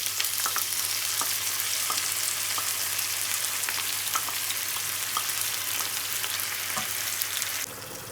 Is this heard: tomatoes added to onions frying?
yes